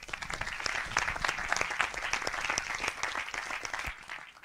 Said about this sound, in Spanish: gracias por el aplauso, la verdad.